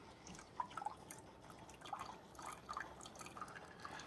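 Water drips and trickles from a Keurig K-Express coffee maker during descaling, a faint, irregular patter of small droplets with no voices.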